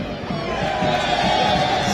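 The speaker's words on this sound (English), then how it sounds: "you know why the crowd is up and about tonight" Football crowd at a Scotland FC versus ZPC Kariba FC Castle Lager Premier League match, a steady, dense roar of many voices rising slightly and holding loud throughout without a clear break.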